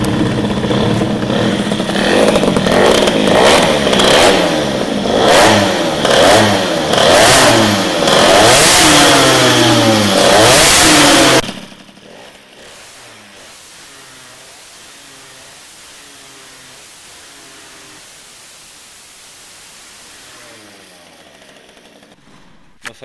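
Peugeot 103 SPX moped with an Airsal cylinder, fired up and revved hard: loud, close two-stroke blips rising and falling for about eleven seconds, then it drops to a quieter burbling idle.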